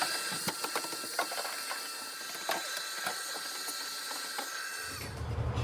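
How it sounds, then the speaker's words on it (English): Vacuum cleaner running over the carpet inside an 80s red Chevy truck, a steady whining drone with scattered clicks and bumps as the nozzle moves, cutting off near the end. "Gonna vacuum up real quick here"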